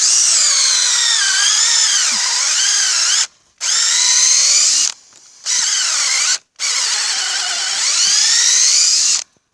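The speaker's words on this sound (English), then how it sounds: "I'm gonna drill a different place at a slightly upward angle." A power drill whines loudly in four long sustained bursts separated by brief pauses, boring into a hard maple tree for tapping, its high-pitched motor pitch sagging and rising under load.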